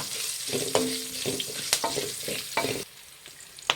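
Curry leaves fry in hot oil in a pan for a Khara Pongal tempering, giving a close crackling sizzle with spatula stirring scrapes and a few sharp pops, easing off near the end.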